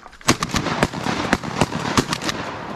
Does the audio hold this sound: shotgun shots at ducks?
yes